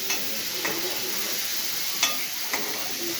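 Chopped tomatoes sizzle in a hot pan of tempering for masala Maggi, a steady soft frying hiss broken by a few light scrapes and clicks of stirring, close and without talk.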